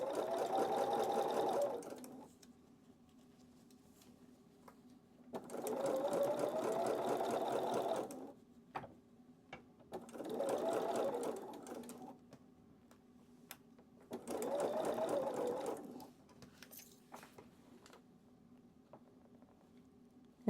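Close-up sewing machine stitching a curved quilt seam, running in four separate bursts of about two seconds each, with quiet pauses between them where the fabric is eased and pins are pulled.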